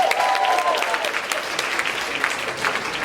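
An audience at a semifinal performance show claps in a steady wash of applause, fairly loud and continuous, with faint voices underneath.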